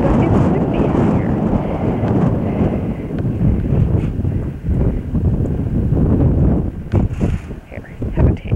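Loud, gusty wind buffets the microphone throughout, roaring and rumbling in uneven bursts, with voices faintly mixed in beneath.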